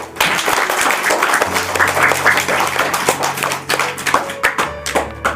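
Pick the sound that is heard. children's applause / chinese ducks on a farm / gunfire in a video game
children's applause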